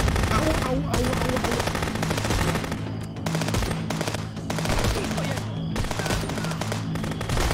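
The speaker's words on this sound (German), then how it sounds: "Schießen, Leute. Schießen." Rapid automatic gunfire from the video game Contraband Police, in dense bursts that run nearly the whole time, with brief gaps between volleys and steady loud background game sounds.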